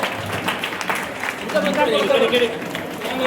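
Audience applause at a seventh-anniversary celebration, a brief burst of clapping mixed with crowd noise and a speaking voice over it.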